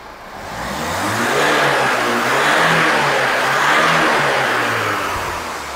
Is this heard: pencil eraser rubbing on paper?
no